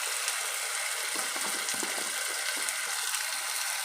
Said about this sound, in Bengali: নুন দিয়ে ভালো করে নাড়াচাড়া করলাম।